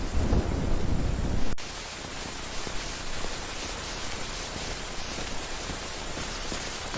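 A cartoon rainstorm opens with a loud rumble of thunder over heavy rain, then settles into a steady, even hiss of falling rain that continues alone to the end.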